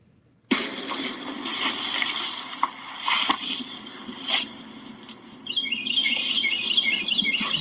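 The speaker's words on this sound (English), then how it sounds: "Listen to the bird." Birds chirping in the background behind a TV-show soundscape, with faint rapid tweets that become a clearer repeated chirping series near the end, mixed with scattered thumps and noise.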